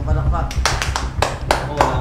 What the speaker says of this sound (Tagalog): Okay, isang palakpak.